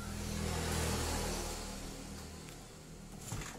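A carbureted Honda Vario 110 scooter engine runs at a low idle, a faint, steady mechanical hum that swells briefly before settling, heard up close with no talk.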